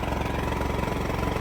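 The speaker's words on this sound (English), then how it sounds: "The exhaust fan is running." An exhaust fan runs during a home fire alarm and emergency system test, giving a steady, close mechanical drone with an even low hum and no talking.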